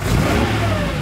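A Bugatti Tank vintage race car engine revs loudly and close by, a rough mid-pitched roar rising and holding.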